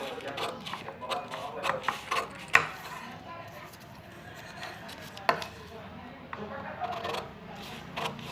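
Fabric for a 28-inch chest blouse is being cut close by, giving a steady run of small crisp snips with a few sharper clicks, against faint background noise.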